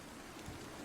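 Rain ambience during a tabletop role-playing session, a steady broadband hiss of falling rain, faint and uniform with no distinct drops or voices.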